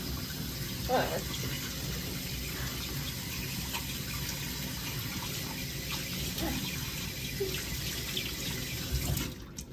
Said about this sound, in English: as she washes her hands